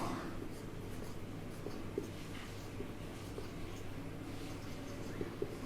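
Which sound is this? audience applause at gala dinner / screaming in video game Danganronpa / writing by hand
writing by hand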